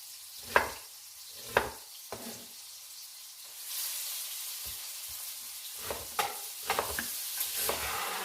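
Pork chops frying in a cast iron skillet over medium heat, a soft continuous sizzle with a few sharp clacks and scrapes of a utensil against the pan, close and moderately quiet, with no talking.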